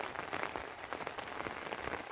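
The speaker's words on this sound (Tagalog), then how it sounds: "Kagabi hanggang ngayon yung ulan." Steady rain falls on surfaces around a rural home in the Philippines, a close, dense patter of drops with no voices over it.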